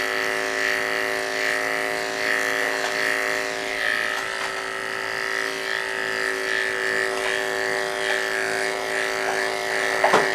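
Electric clippers buzz steadily and close up while trimming the thick coat of a Westie dog, holding one even motor hum throughout with a faint clatter near the end.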